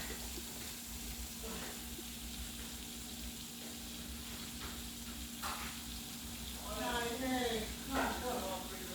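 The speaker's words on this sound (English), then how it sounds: "It's sauteing down" Food sautéing in a covered pan gives off a faint, steady sizzling hiss throughout, with a brief, quiet voice near the end.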